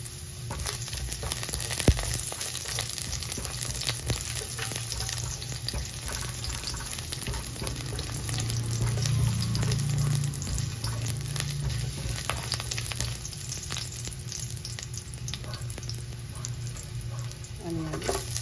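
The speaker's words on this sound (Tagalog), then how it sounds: "start tayo gigisa bawang," Garlic and ginger sauté in a hot pan, a steady close sizzle and fry hiss running throughout with occasional stirring scrapes and clinks, with a faint background hum.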